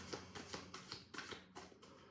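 Tarot or oracle cards being shuffled close to the microphone, a quick series of about eight crisp riffling bursts in an even rhythm, quiet and alone without speech.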